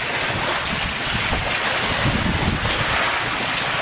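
Monsoon wind and sea waves batter a fishing boat at sea, a constant roaring rush of wind buffeting the microphone over churning water, loud and unbroken.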